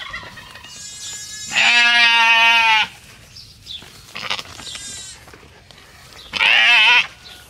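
A newborn lamb and its mother bleat loudly and close by on a farm, with two long, strained calls separated by softer bleats and rustling.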